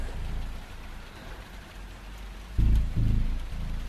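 Rain falls in a radio drama scene as it starts to ease off, a soft steady patter with a low rumble underneath and two brief heavier thumps near the end.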